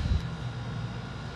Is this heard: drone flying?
yes